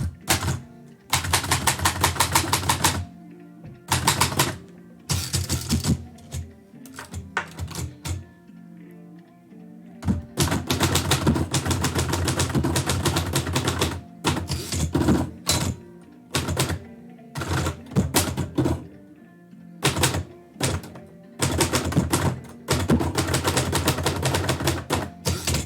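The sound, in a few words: typewriter typing haiku poems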